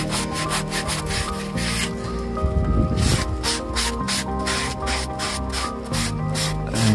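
Fine sandpaper rubs back and forth by hand over varnished antique wood, a steady rhythmic scratchy sanding close up that continues throughout with no talking.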